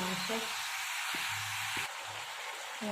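Chicken pieces sizzling as they are sautéed in oil with ginger-garlic paste, cumin and chili powder, a steady bright crackle of frying under soft intermittent talk.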